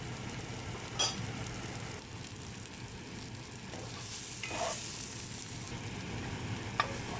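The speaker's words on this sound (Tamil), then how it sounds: "ஸோ இங்கே பாருங்கள் வெங்காயம் நல்லா வதங்கி வந்துட்டுது" Onions fry in a pan with black pepper and curry leaves for a spicy tomato curry, giving a steady, soft sizzle with a few brief clinks and stirring scrapes, no talking.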